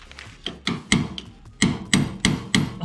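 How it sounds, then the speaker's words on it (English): Hammer blows ring out on a Ricochet off-road skid plate during its install on a CF Moto ZForce 800, about eight sharp, close strikes in an uneven rhythm with brief rattling between them. "you want me to hammer this?"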